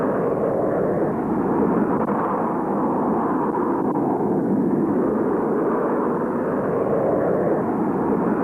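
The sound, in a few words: early jet plane flying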